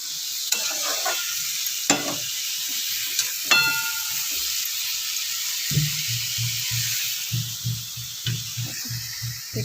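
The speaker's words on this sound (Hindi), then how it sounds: "आलू बैगण टमाटो आगे सीझी गले तापर शाग पकड़ा" Potato, eggplant and tomato frying in a pan for a spinach-greens dish, with a steady sizzle, clinks and scraping strokes of stirring, and a closer, rhythmic run of stirring scrapes near the end.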